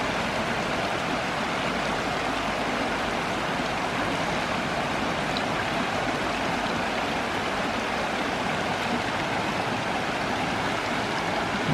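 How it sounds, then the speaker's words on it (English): Blue Water Creek's little cascades rush in high flow, a steady broadband roar of shallow water tumbling over rocks, close and constant for the whole stretch with no voices. "This is the little cascades."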